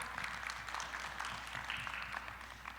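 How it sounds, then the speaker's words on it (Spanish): Applause from an assembly audience at a weekly political meeting, a dense, steady patter of many hands clapping at a distance, fairly faint and continuous. "Un aplauso, por favor"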